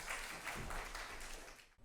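An audience at a Tamil poetry recital applauds in a steady, dense wash of clapping from a crowd that fades out after nearly two seconds.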